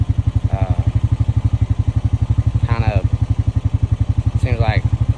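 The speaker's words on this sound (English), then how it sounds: "You just have to let off the throttle, and you got to shift it from each gear." A 2025 Honda Rancher 420 ATV engine idles and chugs with a steady, throbbing pulse, with a few brief rises in pitch as it revs and is shifted between gears.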